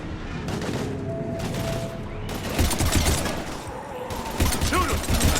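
Heavy gunfire in Mass Effect 3, repeated loud bursts and impacts close by, with shouting voices mixed into the battle noise.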